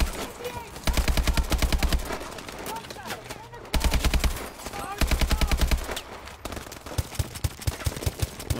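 Rapid automatic gunfire from the video game Call of Duty: Advanced Warfare, bursts of machine-gun shots in several runs with brief gaps, then a few spaced single shots near the end, loud and close.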